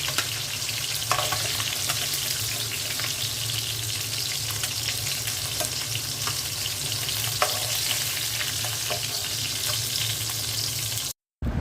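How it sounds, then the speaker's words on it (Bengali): Sarputi fish fry crisp in hot oil in a home kitchen, a loud continuous sizzle with faint crackles and stirring, cutting out abruptly just before the end. "সরপুঁটি মাছটা কড়া করে ভেজে নিচ্ছি।"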